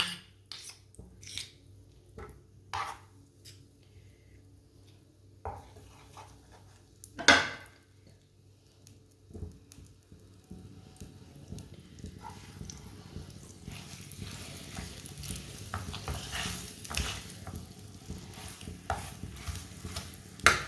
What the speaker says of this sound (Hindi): इसी तरह खजूरों को ना अच्छी तरह पका लेना 2 मिनट के लिए।